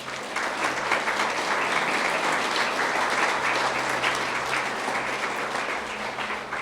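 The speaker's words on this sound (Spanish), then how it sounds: "¿Por qué no le das un fuerte aplauso a Dios?" A church congregation claps together in a sustained, even burst of applause lasting several seconds, moderately loud over a low steady hum, with no talk above it.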